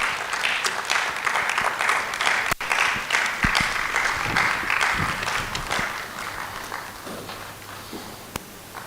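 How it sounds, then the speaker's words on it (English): Sustained audience applause fills a public lecture hall as a speaker is welcomed to the podium, steady dense clapping holding for nearly nine seconds before tapering off slightly. "With a round of applause, let us welcome Miss Estelle Matilda Appiah."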